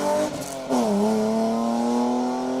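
A BMW rally car on a special stage roars past, its engine note dipping then climbing steadily as it accelerates away, loud and continuous with no talk.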